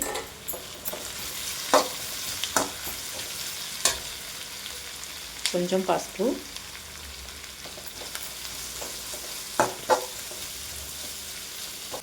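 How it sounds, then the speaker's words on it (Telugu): Tempering spices with ginger, green chillies and dried red chillies sizzle in hot oil for a raw banana curry: a soft, steady frying hiss broken by sharp spoon clinks and stirring scrapes, with a brief voice speaking. "పోపు ఇలా వేగుతున్నప్పుడే కొంచెం ఇంగో కూడా యాడ్ చేసుకోవాలండి"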